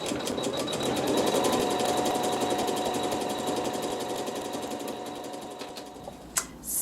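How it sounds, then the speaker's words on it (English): A sewing machine stitches decorative patterns on a quilt, its rapid, even needle chatter running close and steady for several seconds before a few small clicks at the end. "It's going to do some decorative stitches."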